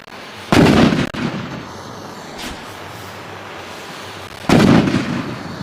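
Village Diwali sky rocket fireworks (vanam) explode outdoors in two loud, separate bangs a few seconds apart, each with a lingering rumble, and a fainter pop between them.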